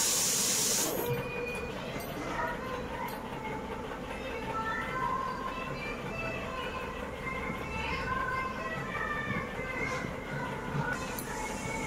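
Rice boiling in a pot on a home kitchen stove gives a steady close hiss of steam that runs unbroken, with faint clinks and soft background noise.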